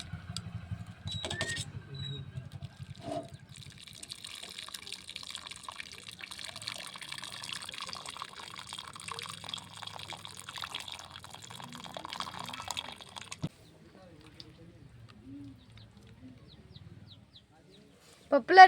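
Cooking water from boiled dal with drumsticks draining off in a village kitchen, a steady splashing, trickling pour for about thirteen seconds, then quieter handling and faint clinks near the end.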